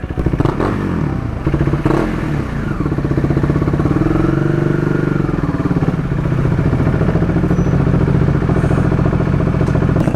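A KTM 390 Duke single-cylinder engine with an Akrapovic slip-on exhaust idles and revs nearby, giving a steady, loud, throaty rumble with rising and falling pitch and no talk over it.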